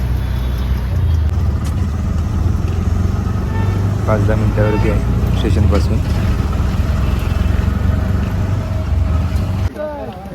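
Auto rickshaw engine droning steadily throughout a ride near Panvel station, loud and close with road noise, while people talk over it.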